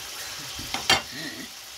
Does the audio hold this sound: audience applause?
no